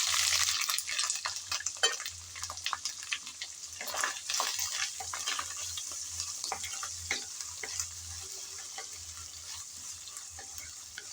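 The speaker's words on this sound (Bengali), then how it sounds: "এখন আমি তেলের মধ্যে চিংড়িগুলো দিয়ে দিলাম" Small salted, turmeric-coated shrimp sizzle loudly in hot oil while a utensil stirs them, steady crackling frying with intermittent scraping clicks throughout, no voices.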